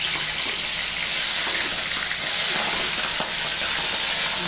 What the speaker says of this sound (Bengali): তেলটা গরম হয়ে গেছে, এবার একে একে মাছ আমি ছেড়ে